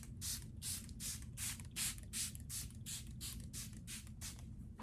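Giorgio Armani setting spray mists onto a face in a quick, even series of about a dozen short hissing spritzes, close up and quiet, with no talking.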